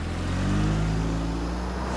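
A car engine idles low and steady, its deep rumble holding close with no clear rise or departure over the two seconds.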